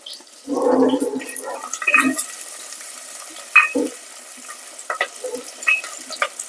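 Two dried red chillies hit hot oil while a bottle gourd curry is cooked, with short sizzling bursts and light stirring clatter that fade into a quieter crackle.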